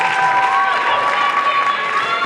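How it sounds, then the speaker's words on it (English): A wrestling crowd fills the Hammerstein Ballroom with steady loud cheering and roaring for the full stretch, dense and continuous with no pauses. "The whole crowd here in Hammerstein behind Truth Magnum and Turbo Floyd"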